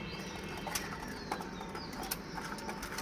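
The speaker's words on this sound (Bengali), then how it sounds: "এই যে সবগুলো কবুতর খাচ্ছে" Pigeons in a breeding loft feeding together, with a steady rustle, scattered wing flaps and soft pecking and shuffling that run evenly throughout at close range, with no one speaking.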